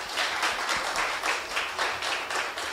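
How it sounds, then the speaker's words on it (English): A conference audience at a fintech event claps steadily and somewhat faintly, the applause even and sustained throughout without voices. "I want a huge round of applause for Joseph Sebastian."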